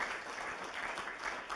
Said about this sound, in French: je vous invite à l'accueillir avec beaucoup d'applaudissements et de chaleur